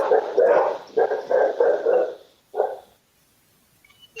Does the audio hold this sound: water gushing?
no